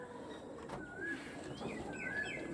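Andhra pigeons kept in a loft: soft, fairly quiet bird calls, with a few short tonal phrases over a steady background hum.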